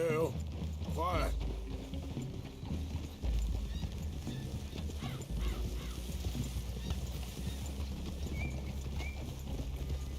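Horses clip-clop through a clearing in the video game Red Dead Redemption 2, hooves sounding steadily under game music and ambience while voices talk over them.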